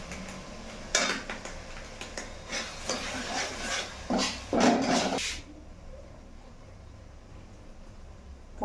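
Mutton sautéing in a pot for a Bengali curry, with clinking and scraping strokes of a spoon stirring through the first five seconds, then a quieter low sizzle.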